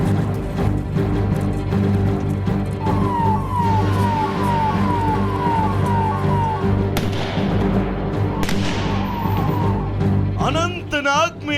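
Army vehicle sirens wail during a mock drill, a rising-and-falling electronic siren cycling steadily over heavy engine rumble and crowd noise, with people talking and a second siren sweeping in near the end.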